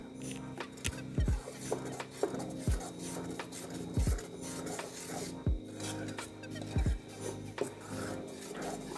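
Coconut dosa batter with salt being stirred in a bowl, a steady rubbing scrape punctuated by several sharp knocks of the utensil against the bowl, close and fairly loud.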